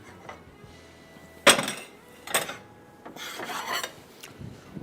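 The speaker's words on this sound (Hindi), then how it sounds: "एक अदद मैं ले लेता हूँ प्लेट।" A plate is handled and set down in a home kitchen while chicken is being breaded for a katsu burger, giving a few sharp ceramic clinks and scrapes with quieter rubbing sounds in between.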